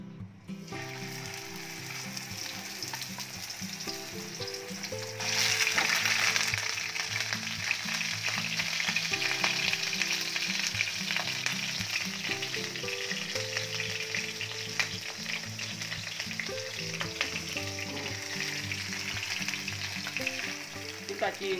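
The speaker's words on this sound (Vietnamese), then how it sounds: "Chúng ta chiên cho con cá này hơi vàng và được nha các bạn." Snakehead fish sizzling as it fries in hot oil in a pan, a steady crackling hiss that grows louder after a few seconds, with low music running underneath.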